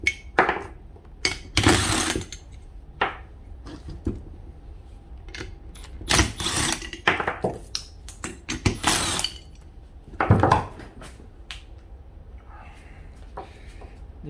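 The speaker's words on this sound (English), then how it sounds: "Do is I'm going to take the head bolts off." Head bolts being taken off a nitrous-equipped paramotor engine: irregular metallic clinks, rattles and scrapes of tools and loose hardware, close by, in short bursts separated by quieter gaps.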